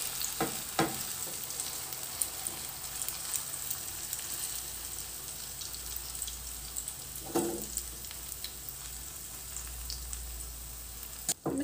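Eggplant fries in oil in a pan with a steady, close sizzle and crackle, and a couple of brief louder spatters rise over the hiss partway through.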